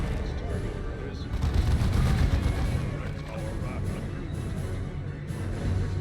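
A turret fires in the Dawn of War 2 co-op campaign, giving a dense rumbling barrage of shots and booms that swells in the middle and carries on steadily under the game's background noise.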